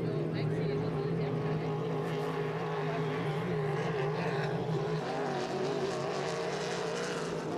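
H350 hydroplane racing boats in a heat at St-Félicien, a steady loud engine roar running throughout with a dense, continuous drone and no breaks.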